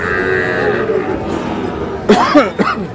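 Sahiwal bull calves at a cattle market in Dinajpur, Bangladesh, let out short nearby moos toward the end, with someone talking over market bustle beforehand.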